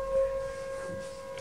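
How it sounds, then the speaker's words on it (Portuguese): A fire brigade siren sounds a single steady, sustained wailing tone, moderately faint and heard alone. "Vou esperar um bocadinho com a sirene dos bombeiros."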